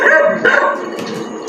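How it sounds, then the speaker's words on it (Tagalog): Several dogs bark and yip angrily outdoors in the early morning, loud and close, with overlapping sharp barks and a whining tone between them. "At galit yung mga aso."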